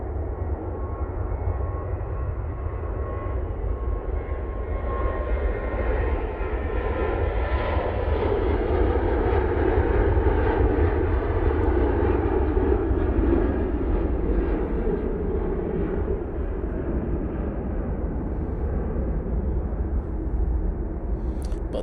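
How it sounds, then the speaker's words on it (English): A Ryanair jet airliner on its takeoff roll at Manchester Airport, a steady, distant, broad engine roar with deep rumble that swells gently toward the middle and then eases slightly, heard alone without talk. "Ryanair now on the roll."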